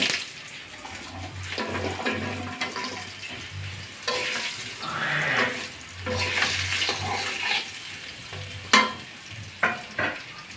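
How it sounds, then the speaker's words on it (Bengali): Drumstick stems for an aloo-data rui fish curry frying in oil with bay leaf, a steady sizzle broken by stirring scrapes and clinks, with a few sharper knocks near the end. "এখন বন্ধুরা আমি ডাটাগুলো ভেজে নেব"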